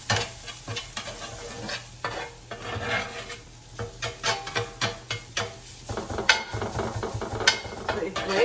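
Minced beef with crushed chili stirred in a pan: a faint sizzle under repeated rhythmic scrapes and knocks of a utensil against the pan, growing busier and louder toward the end, with no voices.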